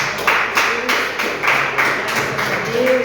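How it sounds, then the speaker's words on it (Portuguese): Rhythmic group clapping from a congregation at a Portuguese-language church service. The claps land in steady, evenly spaced bursts about every third of a second, close and fairly loud, with faint voices underneath. "as palmas louvam o Senhor"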